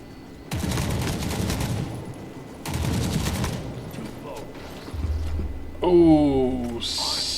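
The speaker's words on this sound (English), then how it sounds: "someone might have a 50 cal down there" Heavy .50 cal machine gun fire in Forever Winter comes in two long, loud sustained bursts, followed by a low rumble and a rising mechanical whine, with a voice talking over parts of it.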